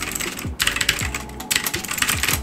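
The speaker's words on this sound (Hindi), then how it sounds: "ये हमारा कीबोर्ड हो गया।" Fingers type on a mechanical computer keyboard at a desk, producing close, crisp clacking keystrokes in irregular quick bursts with brief pauses, no talking.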